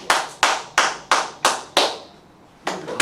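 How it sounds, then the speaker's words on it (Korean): A church congregation claps in slow, separate bursts, about six sharp group claps spaced evenly, then a short pause before one more, loud and close with no talking. "박수로 하나님께 영광을 드리시고"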